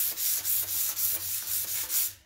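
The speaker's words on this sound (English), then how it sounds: "This is the Dixie Belle sanding sponge, which is a 220 grit. I'm just going to go ahead and lightly sand this." Light sanding of painted furniture with a 220-grit Dixie Belle sanding sponge: about eight quick, even back-and-forth rubbing strokes, close and steady, with no talking.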